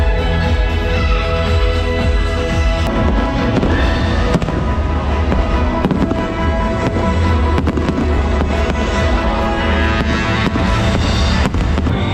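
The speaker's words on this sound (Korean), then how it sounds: "조지아 이후로 불꽃놀이 최고였어" Dense, continuous fireworks barrage at a resort hotel in Phu Quoc, Vietnam: rapid overlapping bangs and crackles, loud and sustained for the whole stretch.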